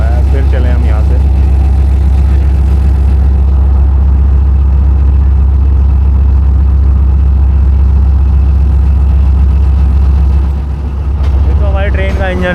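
A Pakistani passenger train's diesel locomotive engine runs on the Awam Express at Rohri, a loud, steady low rumble with a constant hum throughout, with talk over it at the start and end.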